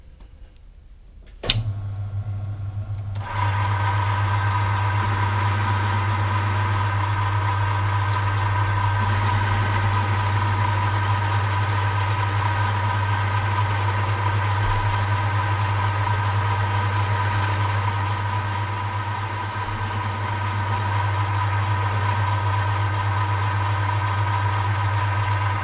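A lathe skims another thousandth of an inch off the seal boss of a 1945 Willys Jeep pulley to cure an oil leak. It starts with a sharp clunk, then the machine runs as a steady, loud, even hum, with no talk.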